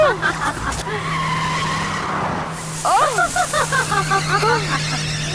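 A car swerves with tires squealing and skidding in repeated rising screeches over a steady engine hum, with shouting voices mixed in.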